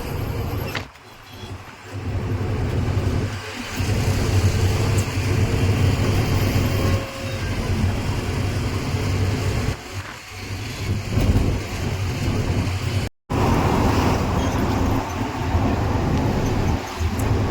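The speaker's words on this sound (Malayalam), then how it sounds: "നല്ല ട്രാഫിക് ഉണ്ട്" Heavy road traffic in Mumbai, heard as a continuous close rumble of engines with swelling passes and brief dips, dense and loud throughout.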